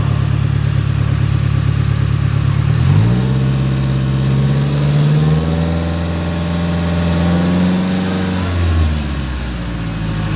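A car engine idles loudly up close during an inspection, then revs up, its pitch rising and holding for several seconds before dropping back to a steady hum with no abnormal noises.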